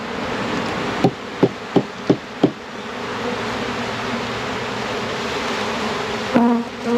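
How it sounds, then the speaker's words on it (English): A swarm of package honeybees buzzes steadily inside a horizontal hive, with a series of five sharp taps on the box early on and another knock near the end. "there's a lot of bees in here"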